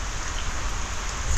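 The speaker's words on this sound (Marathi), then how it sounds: "पावसाला सुरुवात झाली" Steady rain falls in the Konkan region, a dense, even hiss of drops on surfaces with no break.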